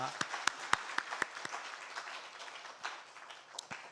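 A short burst of scattered hand claps from a small church congregation during a Sunday service, fairly close, quickly thinning out into a few isolated claps.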